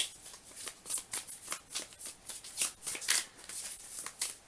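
Cards being shuffled in a quick series of crisp riffling bursts, close and steady, with no voices.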